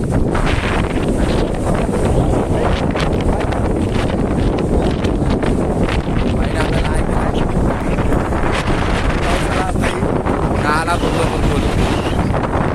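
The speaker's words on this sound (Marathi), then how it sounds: "आणि वारा जोरदार आहे तुम्हाला आवाज येईल म्हणजे त्याचा तसा" Strong gusting wind at a beach near a jetty buffets the microphone in a loud, continuous roar that never lets up.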